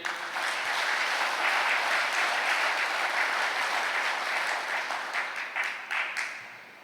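A church congregation claps and applauds together in a sustained wash of clapping that thins out into scattered claps and fades at the end.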